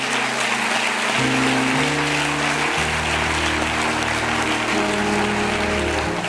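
A church congregation claps and cheers in praise of the Lord during a French-language sermon, the steady applause continuing throughout over sustained keyboard chords that shift pitch.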